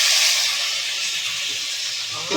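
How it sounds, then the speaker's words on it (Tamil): Onions frying in a pan for a chicken curry, a steady loud hiss of sizzling that holds through the whole stretch with a brief stir or clatter near the end. "வெங்காயம் வறுத்தது. இது கொஞ்ச நேரம் வதக்கணுமா."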